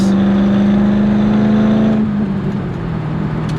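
A modified Corvette fitted with an Anti Venom mod and Z06 shocks accelerates with a loud, steady engine drone that rises in pitch, then drops as it shifts gears and keeps pulling close by.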